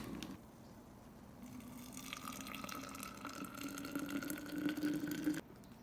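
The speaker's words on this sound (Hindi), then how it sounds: "साशे बस डालूँगी और गर्म पानी डालूँगी तो रेडी हो जाएगा।" Hot water poured from an insulated thermos onto a kahwa sachet, made outdoors at a seaside picnic: a steady close-up stream of liquid running for about five seconds, with the pitch rising as the cup fills, then stopping abruptly.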